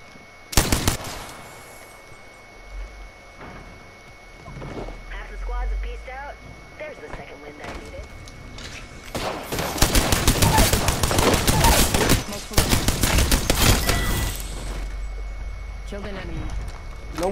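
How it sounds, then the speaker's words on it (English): Gunfire erupts in the video game Apex Legends, with scattered single shots giving way to loud, rapid bursts of automatic fire and impacts, while a player talks over parts of it. "Getting shot at."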